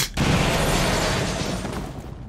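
A frag grenade goes off in a video game battle, a single heavy boom that swells at once and then rolls on as a long, loud rumble fading slowly over a couple of seconds.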